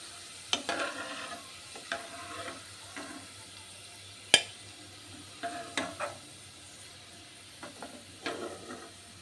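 Fried onions are lifted out of hot oil in a pan with scattered scraping clinks and soft sizzling, irregular utensil knocks spaced across a quiet background.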